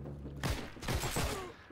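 Several sharp STG 44 rifle shots in a Heroes & Generals match, three or four quick cracks spaced about a third of a second apart, loud and close over a low background hum, without speech.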